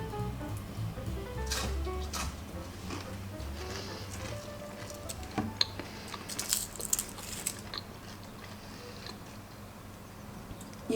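Someone bites and chews the crunchy crust edges of a baked dish with a softer centre, irregular close crackles and munches with a few sharper crunches, heard alone.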